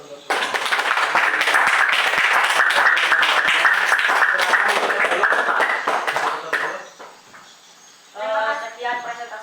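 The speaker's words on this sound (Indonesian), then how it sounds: "Tepuk tangan dulu untuk" Classroom audience applause after a student presentation, loud dense clapping for about six seconds that then fades out, followed by a person speaking.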